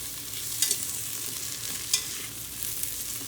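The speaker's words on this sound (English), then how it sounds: "we just want to roll those around in that roux mixture so that they get nice and coated" Cooked bacon pieces are stirred and rolled through a roux mixture in a pan for butternut squash soup, giving a steady low frying sizzle with a couple of brief scraping clinks, alone and fairly quiet.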